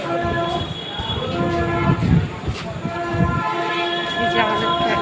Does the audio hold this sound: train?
yes